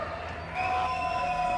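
An arena crowd at a StarLadder Budapest Major 2025 Counter-Strike match roars and cheers for Furia, a dense wash of sound that swells louder partway through and holds steady.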